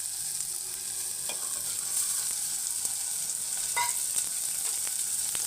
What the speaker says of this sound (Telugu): ఇందులో మనం ప్రాన్స్ వేసుకుందాం.